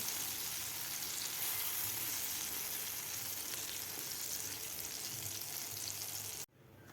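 A mango mixture for mango barfi sautés and gets stirred in a pan, giving a steady soft sizzle that stays even and continuous before cutting off abruptly near the end.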